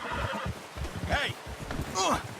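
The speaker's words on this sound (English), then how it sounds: "Get that horse in line, Arthur" A horse in the video game Red Dead Redemption 2 gives two loud whinnies with falling, wavering pitch over hoofbeats and background game sounds, while a voice speaks nearby.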